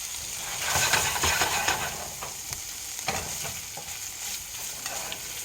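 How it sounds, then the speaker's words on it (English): Spicy sausage frying in a pan: a steady, hissing sizzle with occasional pops and scraping stirs, close and moderately loud, heard alone. "Meantime, our sausage is cooking."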